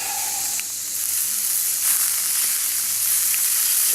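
Food sizzling on a grill over a campfire at a bushcraft campsite, a steady bright hiss holding throughout with faint low background sounds beneath.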